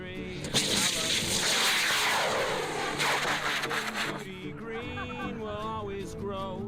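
A model rocket roars off the pad at a high-power rocketry launch, a loud rushing burst that swells and then fades as it climbs, with people talking nearby afterward.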